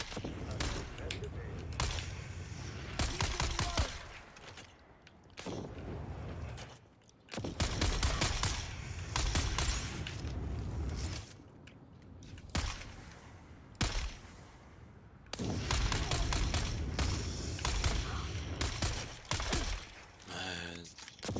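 Gunfire in the Dune Awakening video game, with bursts of rapid automatic shots repeated in several clusters separated by short pauses, loud and close, with a person occasionally breathing or talking in between.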